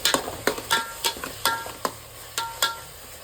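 A spoon scrapes and taps repeatedly against a pan while masala is stirred with fresh mint leaves, giving a steady rhythm of close, sharp strokes over a faint sizzle.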